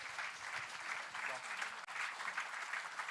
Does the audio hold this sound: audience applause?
yes